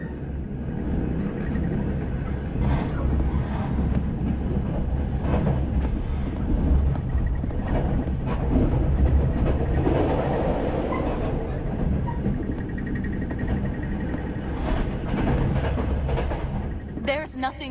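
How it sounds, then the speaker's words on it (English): Train rolling on rails in the horror video game Reveil, a steady close rumble and clatter running throughout, with a voice speaking over it. "This train."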